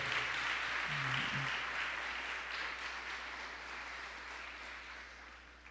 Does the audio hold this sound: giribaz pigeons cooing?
no